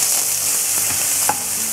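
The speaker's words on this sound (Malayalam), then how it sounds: "ഞാൻ സവോള ചേർത്ത് കൊടുക്കുവാണ്." Chopped onion dropped into hot coconut oil with popped mustard seeds and fenugreek, a loud close bright sizzle throughout with a few faint stirring clicks.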